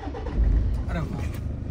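A Toyota Fortuner diesel SUV starting by push button with the brake pressed, a brief low engine crank and catch settling into idle, close by, with people talking over it.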